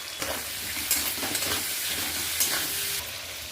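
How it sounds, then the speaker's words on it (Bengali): Thin-sliced potatoes and chopped onion, seasoned with salt and turmeric, fry in a pan with a continuous loud sizzle, broken by occasional spatula scrapes and stirring clatter, with no voices. "আলু পেঁয়াজটা ভালো করে ভেজে নেব"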